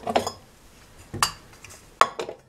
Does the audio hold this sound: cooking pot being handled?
yes